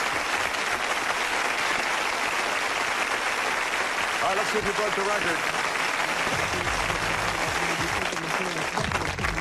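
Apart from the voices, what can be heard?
applause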